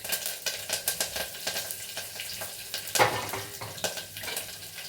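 Onions, green chillies and curry leaves fry in hot oil for a homemade tomato rasam, giving a steady sizzle broken by repeated clicks and scrapes of a spoon stirring the pan.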